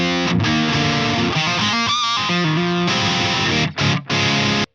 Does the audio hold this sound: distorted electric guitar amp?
yes